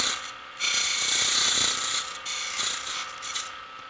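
A wood turning tool works down a captured ring on a lathe, giving a steady, close scraping rasp that swells after a short quiet start and continues with slight dips, alone without talk.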